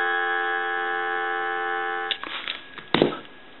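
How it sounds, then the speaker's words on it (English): A steady electronic dial tone from a Western Electric 554 rotary wall telephone under repair hums for about two seconds, then gives way to a few soft clicks and handling noises. "I'm going to give you some dial tone"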